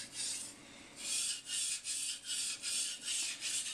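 A Moritaka kitchen knife drawn across a whetstone makes a rhythmic, close-up rasping scrape, about seven even back-and-forth strokes with brief dips between them, with no talking.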